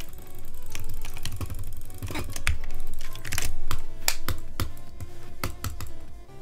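Rapid, loud clacking on a computer keyboard during a Roblox Bedwars match, dense bursts of sharp keystrokes close up, with no talking.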